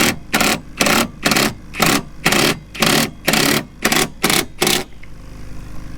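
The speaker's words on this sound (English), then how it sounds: "So we're just gonna put in, they're like 1 1/4 inch self-tapping bolts." A power tool drives 1 1/4 inch self-tapping bolts while mounting a trailer upgrade: about a dozen loud, close bursts of whirring, evenly spaced, each under half a second, then a quiet hum.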